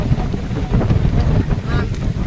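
Strong wind roars loudly and continuously on the hilltop at Pavagadh during a rainstorm, heavy gusts buffeting the microphone with deep rumbling.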